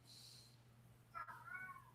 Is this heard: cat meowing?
yes